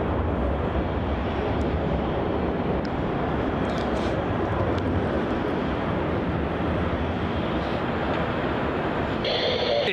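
A Boeing 717-200 airliner at Melbourne Airport roars steadily as a broad, continuous jet rumble, loud and sustained throughout with no voices over it.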